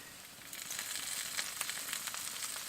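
A generous handful of spinach lands in a hot pan over cooked potatoes for sag aloo in a narrowboat kitchen, and a steady hiss of sizzling swells up and keeps frying with small crackles.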